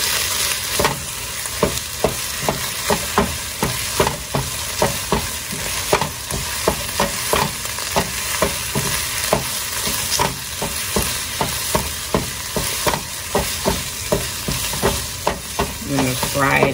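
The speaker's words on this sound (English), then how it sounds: "combine all of this and fry that tomato paste" Tomato paste frying in a pan for spicy vodka pasta, loud continuous sizzling with rapid, rhythmic scraping and stirring strokes of a utensil throughout.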